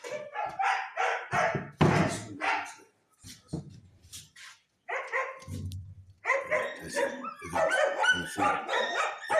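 Several dogs in a kennel bark and yip in loud, overlapping bursts at close range, with short whimpers and brief pauses between volleys.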